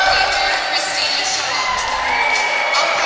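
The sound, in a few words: crowd cheering at a netball match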